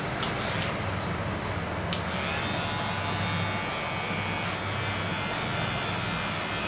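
An electric hair clipper runs steadily throughout a self haircut, giving a close, even buzz that holds at one level for several seconds, with no voices over it.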